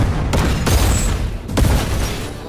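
An explosion blast in the Hindi-dubbed action film Jana Nayagan roars as a loud, continuous deep rumble, with crackling, booming surges rising through it over a couple of seconds.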